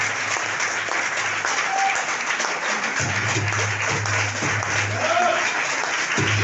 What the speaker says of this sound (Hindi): जोरदार ताली होनी चाहिए, जोरदार ताली हल्ला बोल के म्यूजिक के साथ में